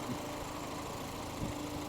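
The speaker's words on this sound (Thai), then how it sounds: "อันนี้คือเครื่องยนต์ทำงานนะครับ" A 2013 Toyota Vios 1.5-litre automatic idles quietly with a steady low hum and faint vibration, smooth and unchanging, no talking.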